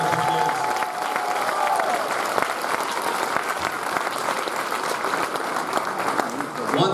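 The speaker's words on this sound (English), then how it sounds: "And I also think we need one big round of applause for Mr. Fay as well as the teachers that work so hard with the kids." An audience at a school Grandparents Day event applauds for the principal and teachers, continuous dense clapping with some cheering and faint voices mixed in.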